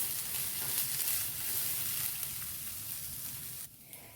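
Grated coconut roasting with salt in a hot pan, a steady broadband sizzle that holds evenly throughout, close and alone, dropping off briefly near the end.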